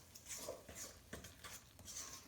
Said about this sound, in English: Then I'm going to mix really well here.